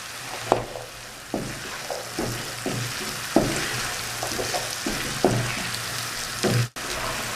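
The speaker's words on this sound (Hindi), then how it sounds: "अब हम इसमें शामिल करेंगे चने जो हमने पहले उबाल के रखे थे और इसको 4 से 5 मिनट के लिए अच्छी तरह भून लेंगे।" Boiled chickpeas fry in ghee with masala, a steady sizzle broken by repeated stirring scrapes and clanks at irregular intervals, close and moderately loud, with no talk.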